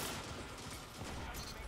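A continuous, dense wash of fusion rifle fire in a first-person shooter game, loud and steady throughout the short stretch.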